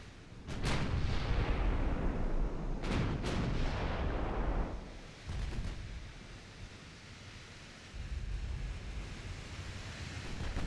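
Heavy naval guns fire from battleships in a pre-dreadnought-era naval video game, several deep booming blasts rolling out over a constant sea-and-wind wash, with sharp onsets at irregular intervals and no talking.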